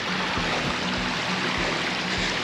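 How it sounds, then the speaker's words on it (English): A large waterfall on Blackden Brook, on the Kinder Scout moorland, pours down in a loud, steady, broadband rush of falling water. Occasional low thumps sound beneath it, and no one speaks. "There's that large waterfall just coming down."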